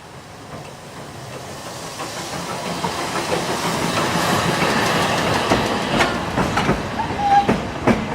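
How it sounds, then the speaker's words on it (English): The Rhaetian Railway steam locomotive HG34 pulls out of Untervaz station as a steam shuttle, hissing and chuffing at a steady rhythm that builds and grows louder as it moves off. "In Untervaz, HG34 departs from the station as steam shuttle towards the Holcim area."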